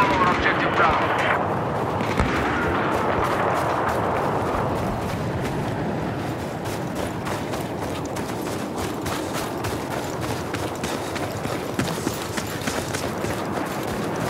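Enemy machine gun fire in a military shooter game, steady rattling bursts that run through the whole stretch at moderate loudness beneath ongoing game sounds and voices.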